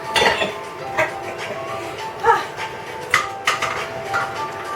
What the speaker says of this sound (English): Carefully put your jars in boiling water, okay?